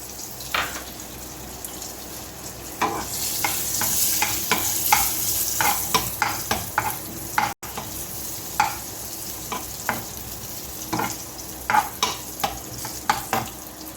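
Cashews and raisins roast in a pan for pradhaman payasam, a spoon clinking and scraping against the metal in quick irregular strokes over a steady close sizzle, with no talking.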